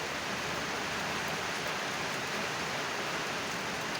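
Steady rain falling outdoors during a countryside meal of grilled fish, papaya salad and bamboo shoot soup, a continuous even hiss with no pauses, fairly soft and alone without any voices.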